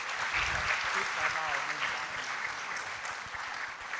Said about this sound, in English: We can applaud her better.